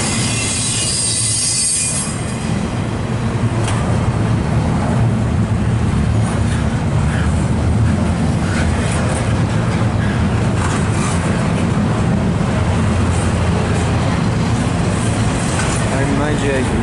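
A CPKC westbound freight train rolls past close by, a loud continuous rumble of wheels on rail with squealing and clattering cars throughout, while someone talks over the noise.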